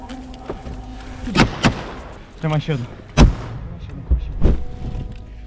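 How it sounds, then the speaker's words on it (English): Several heavy, sharp grenade explosions go off one after another in a trench, with muffled voices in between. "They're unsure whether the first grenade was effective, so they toss another."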